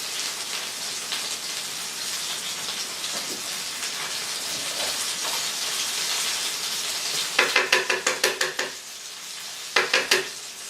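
Orange chicken sauce ingredients, including fresh orange juice, hiss and sizzle as they hit a hot pan, a steady close frying crackle followed by short bursts of louder spitting, with no voices.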